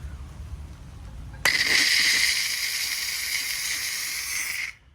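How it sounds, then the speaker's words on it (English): A McCulloch 1385 steam cleaner, powered up and heated, suddenly releases steam in a loud, sustained hiss that starts abruptly, holds steady for about three seconds, then cuts off. "we have steam"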